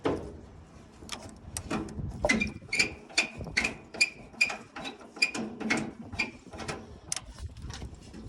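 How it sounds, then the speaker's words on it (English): A tiny 4-inch crescent wrench works loose the starter on a 1940 Chevy truck, giving a steady run of sharp metallic clicks and ratcheting taps, close and moderately loud, with no talking. "you move down here to the starter and we can undo that one. All with this little bitty 4-inch crescent wrench."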